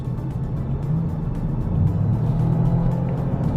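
A Toyota GR Yaris hatchback drives hard through corners, heard from inside as a steady, loud engine and road drone that builds slightly toward the end, with no voices over it.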